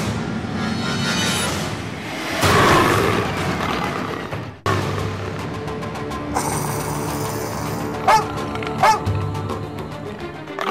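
A dog in a hidden object video game gives a couple of short, sharp barks late in the passage, heard over a busy bed of game music and sound effects.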